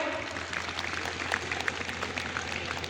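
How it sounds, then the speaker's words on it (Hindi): Hands clapping in a crowd at a public gathering, a steady dense patter of applause with scattered sharper claps running through the whole stretch, moderately loud and fairly close. "ये एक बार जोरदार ताली पहुंचानी चाहिए।"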